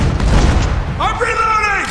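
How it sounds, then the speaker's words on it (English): A grenade launcher blast in Spec Ops: The Line: a deep, rumbling boom fills the opening, then a shouted voice rings out over the fading low rumble. "Grenade launcher!"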